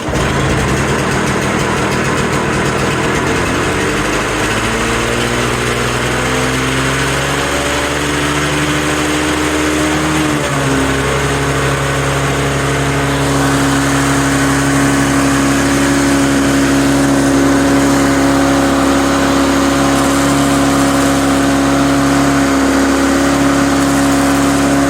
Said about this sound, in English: here it is running. LawnBoy DuraForce motor.